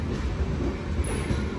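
Train standing at Hassan Junction platform, a low steady rumble with soft thumps and a brief high whine near the end, fairly quiet.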